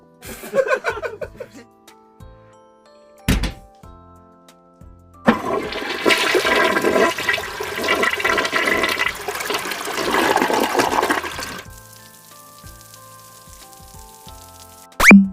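A toilet flush roars up loud and close, rushing water swirling for about six seconds before stopping abruptly, framed by scattered clicks, a sharp thump and brief laughter.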